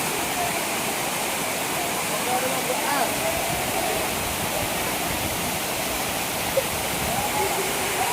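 Kothapalli waterfall rushes in a constant, loud, broadband roar of falling water close by, unchanging throughout.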